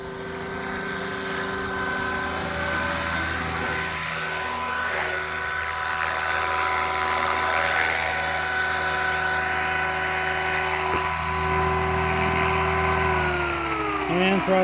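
An HK-500 radio-controlled helicopter hovering close by with a loud high-pitched rotor and motor whine, holding steady before the pitch drops and winds down as it lands.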